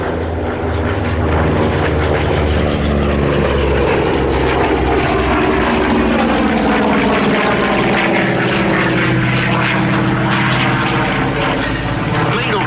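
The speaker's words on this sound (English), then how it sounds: "now the team will form themselves up into one long line for a fly past." Propeller aircraft of a formation team at the Duxford Battle of Britain airshow fly past in one long line, a loud sustained engine drone with shifting pitch that builds and swells overhead, with a commentator's voice faintly underneath.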